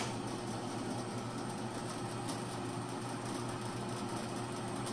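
A 300-pound Jet 20-inch drill press with a 1 horsepower motor runs at a steady, faint, smooth hum without variation.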